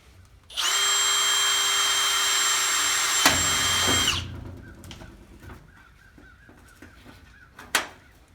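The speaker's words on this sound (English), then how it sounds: "let's get a big bit and open the holes up" A power drill with a big bit opens up rivet holes while a performance body is fitted to a modified vehicle: a loud, steady whine for several seconds that stops abruptly, followed by quieter shop clatter and a sharp knock.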